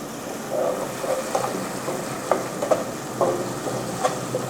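Onion paste with a little salt sautés in a pan for paneer methi chaman, a soft steady sizzle broken by occasional scraping stirs.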